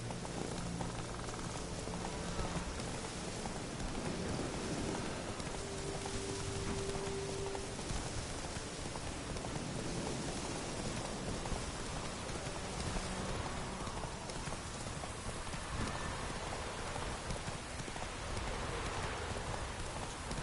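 Rain in The Witcher 3 falls as a steady, soft hiss of drops, with horse hooves clip-clopping faintly underneath.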